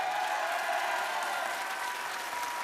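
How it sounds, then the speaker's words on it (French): A French game show studio audience applauds, a steady, even patter of many hands clapping at moderate distance that carries on throughout without pause. "il faut pas applaudir"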